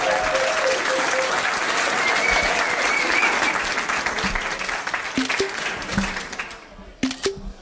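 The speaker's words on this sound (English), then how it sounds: "Give them a round of applause." Patrons at a pub trivia quiz give a winning team a hearty round of applause. The clapping is full and sustained, then tapers off into a few scattered claps and a faint voice near the end.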